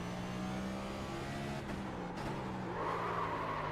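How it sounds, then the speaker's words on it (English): A race car locks its brakes in a racing video game at COTA, tyres skidding and squealing over a steady engine whine, then the engine note rises again at the end. "Dang it, locking up the brakes into that."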